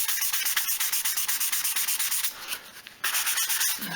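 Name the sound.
sanding the back of a Les Paul guitar body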